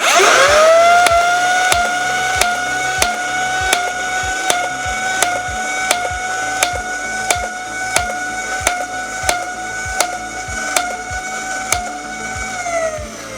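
A 3D printed Nerf blaster fires repeatedly at reactive targets on an indoor 50-foot range, its motor whining steadily while sharp snapping shots land in a quick, even rhythm of about a dozen.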